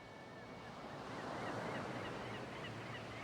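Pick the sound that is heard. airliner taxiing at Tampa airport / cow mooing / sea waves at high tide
sea waves at high tide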